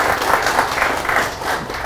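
An audience at a formal talk and Q&A with former Microsoft chairman Ravi claps in steady, dense applause. The clapping is close and sustained, with no pauses or voices over it.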